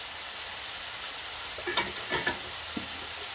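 Soft steady sizzle of ridge gourd frying in oil with chilli powder, coriander powder and black masala, with a few light stirring scrapes in the middle, fairly quiet and close.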